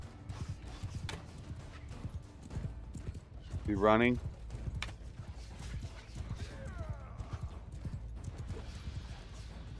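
Horses gallop in Mount & Blade II: Bannerlord battle gameplay, a steady clip-clop of hooves running through the clip under ongoing talk, with a brief louder burst of movement near the middle.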